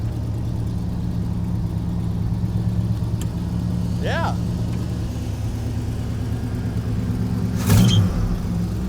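A Corvette engine idles with a steady low rumble and a brief swell near the end, while people talk briefly over it.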